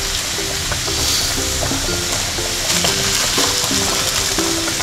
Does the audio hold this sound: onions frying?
yes